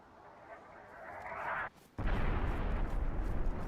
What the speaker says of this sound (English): They're mortaring it again.